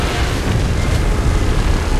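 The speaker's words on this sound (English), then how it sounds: "Is it gonna fire a beam at us?" A monster's beam blast in PUBG Mobile roars as a loud, sustained rumbling boom, dense and continuous for about two seconds with no talking over it.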